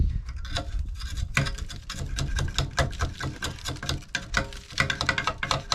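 A gasket scraping tool scrapes dirt from inside the fan housing of a HeatMaster G-Series stove. Rapid, close metallic scratching and ticking strokes repeat unevenly, with no voice.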